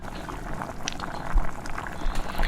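A pot of water at a rolling boil for cooking pasta, with steady bubbling and gurgling up close, moderately loud and with no voices.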